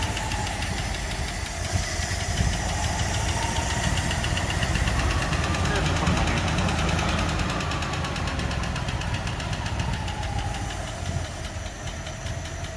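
A Packard car engine runs steadily while warming up, a continuous mid-pitched rumble with a fast repetitive tick riding on top, close and constant, no talking.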